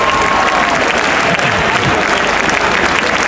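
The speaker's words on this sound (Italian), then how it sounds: "Fate un applauso a Gianluca che stasera..." Crowd applause at a live concert at Lucca Comics & Games 2019, dense loud clapping from a large audience sustained throughout, with some crowd noise mixed in.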